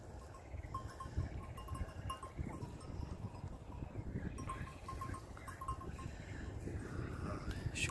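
Young lambs on a farm in spring give faint, scattered bleats against quiet outdoor ambience, with a low murmur of background noise and no clear talk.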